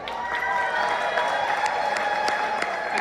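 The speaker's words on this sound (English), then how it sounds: "Can we give them a huge round of applause?" Audience applause and light cheering for a champagne glass tower built by the bar team at a cruise ship captain's welcome event, steady dense clapping filling the whole moment at moderate distance.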